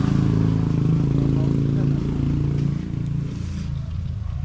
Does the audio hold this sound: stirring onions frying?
no